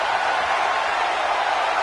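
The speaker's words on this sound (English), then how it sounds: "Listen to this crowd, King." Steady, dense crowd roar from a wrestling video game arena, a continuous wash of cheering and noise from a large audience with no distinct voices standing out.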